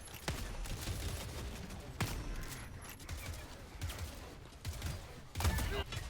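Shots from the Constitution rifle in Helldivers 2 ring out one at a time at a steady pace of roughly one per second, each a sharp crack over low background game noise, with a heavier burst near the end.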